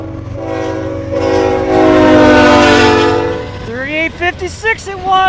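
CN freight train 3856, a northbound Q train north of Conrath, passing close with a loud sustained horn that swells then fades, followed by a voice talking over the engine rumble.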